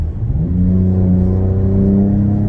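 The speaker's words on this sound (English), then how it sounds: "And even if I give it the gas, you still hear the speaker engine noises as well." A 2025 Ford Explorer ST fitted with an MBRP exhaust accelerates, heard from inside the cabin: a loud, smooth engine hum and exhaust note rising steadily in pitch as the revs climb, with no voices.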